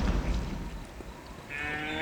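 A single low cow moo from the video game Postal 2, synthetic and game-like, sounds clearly and then tails off, with no talking.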